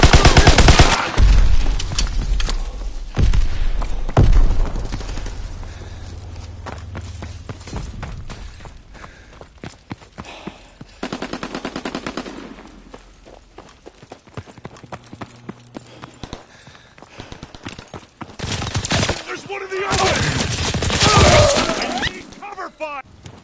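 Scattered gunshots and bursts from a World War II video game, some loud close cracks and some distant, with clattering impacts and shouted voices in between over about twenty seconds.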